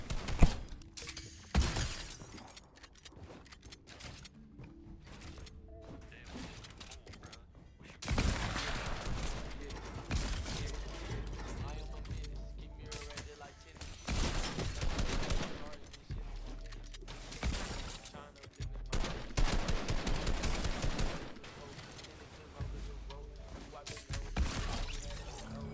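Rapid bursts of gunfire, shattering hits and eliminations in Fortnite, sharp clustered volleys separated by quieter stretches, with speech in places.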